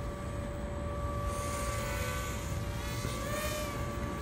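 A Sharper Image DX-2 stunt drone flies at night, giving a steady, even propeller whine with high-pitched motor tones that rise briefly near the end, continuous and moderately close with no talking.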